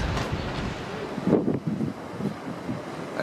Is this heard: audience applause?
no